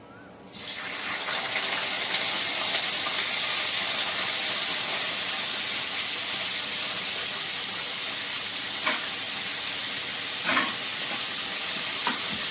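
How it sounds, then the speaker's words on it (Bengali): Cauliflower and potato hiss and sizzle as they fry in a pan, a steady loud broadband sizzle starting abruptly and running throughout, with a couple of brief clinks from stirring. "ফুলকপিটা আলুটা ভালো করে লাল করে ভেজে নেব।"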